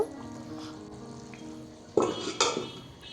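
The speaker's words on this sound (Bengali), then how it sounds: "এখন পাঁচ দশ মিনিটের জন্য আবার ঢাকা দিয়ে দিব" A lid goes onto a pot of prawn malai curry with fried fish added, making two sharp metallic clanks close together near the end after a quiet stretch of low kitchen noise.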